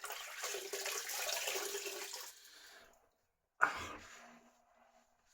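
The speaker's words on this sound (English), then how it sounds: "Now we'll rinse it off with a flannel, because if you do it with your face, I think it takes ages" Water splashes steadily while a face is rinsed with a wet flannel over a sink, then stops. A brief sharp knock or clunk follows, and a quieter patch of trickling water comes after it, all close up.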